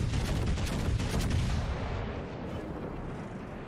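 Warship guns fire in World of Warships Legends, a heavy rolling barrage of booming shots that thunders loudly and then slowly tails off.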